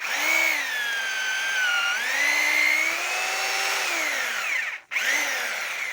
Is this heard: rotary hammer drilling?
yes